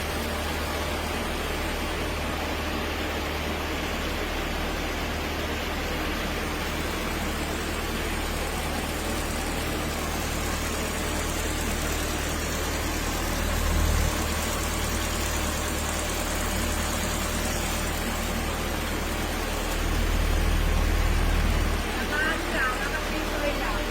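A Ford EcoSport engine idling in a repair shop gives a steady, unbroken low hum and rumble that stays even throughout, with voices nearby.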